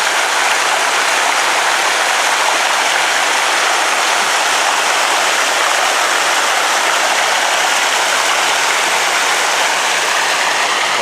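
A mountain stream rushes close by, a loud, steady broadband wash of flowing water that holds unchanged throughout with no talk.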